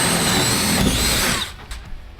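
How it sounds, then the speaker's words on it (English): A power drill with a half-inch bit whines loudly as it bores through wood, then cuts out abruptly, leaving a few quiet knocks. "Now I've got a drill with a 1/2 inch bit on it"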